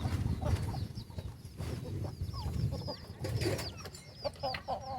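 Chickens cluck and chirp in a noisy outdoor farm setting, with short repeated calls scattered over a steady low rumble and background murmur.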